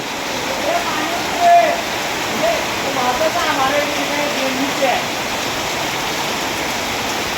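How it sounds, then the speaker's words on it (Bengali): Heavy rain pouring steadily in Nageshwari, a dense continuous hiss with no pauses, close and loud. "এখন এমন বৃষ্টি যে বন্যা হয়ে যায় আবার"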